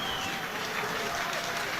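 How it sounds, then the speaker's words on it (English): Steady applause from a rugby crowd at a men's Premiership final as a replaced player walks off, a dense soft wash of clapping from the stand, fairly distant, with a commentator talking over it. "Little receiving applause as he makes his way down towards the edge of the front of the main stand"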